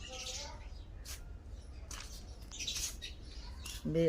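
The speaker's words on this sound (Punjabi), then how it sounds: "ਸਵੇਰੇ ਸਵੇਰੇ ਚਿੜੀਆਂ ਆਪਦੇ ਘਰਾਂ ਦੇ ਵਿੱਚ ਚਿੜੀਆਂ ਆ ਗਈਆਂ" Sparrows chirp around a house in the morning in short, scattered high tweets, fairly faint and spread across a few seconds, with a brief voice near the end.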